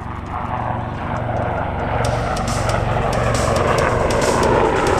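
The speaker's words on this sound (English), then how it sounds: "the Cobra, the second helicopter going through here" A Cobra attack helicopter passes at an airshow at MCAS Yuma, its steady low engine and rotor roar growing slightly louder, continuous throughout with no voices.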